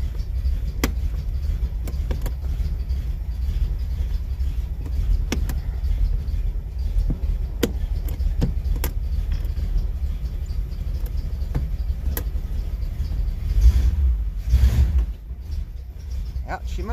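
Engine of a 1977 Chevy Camaro idling with a steady low rumble, a scattering of sharp mechanical clicks and clunks, and a brief swell near the end as it is put in gear, with people talking over it.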